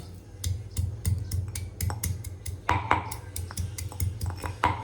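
Garlic pounded fine with a pestle for a green onion-garlic chutney: sharp, irregular knocks and clinks repeat close by, with steady rhythmic pounding and no talking.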